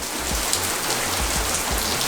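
Heavy rain pouring down steadily outdoors beside a Ford Fiesta, a dense, loud, unbroken hiss of drops with faint low thuds underneath, no voices.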